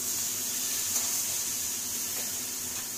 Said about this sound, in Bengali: সামান্য অল্প একটু জল দেবো